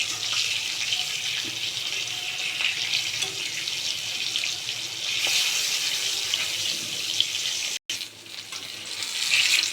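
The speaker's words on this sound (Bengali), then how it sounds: "মাছ ভাজার তেলের মধ্যেই বেগুনগুলোকেও ভেজে নেব।" Salted, turmeric-coated eggplant pieces fry in oil left from frying fish, giving a steady close hiss and sizzle that briefly cuts out for a moment before resuming.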